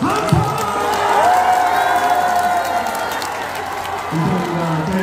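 A concert audience at an outdoor temple music festival claps and cheers in a steady burst of applause, with some whoops, while a presenter's voice carries over the crowd.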